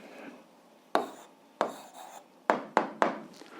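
A hand writes an answer during an algebra lesson, pen or chalk making a light scratch followed by several sharp taps and strokes in an irregular rhythm, close and fairly quiet, with no voice.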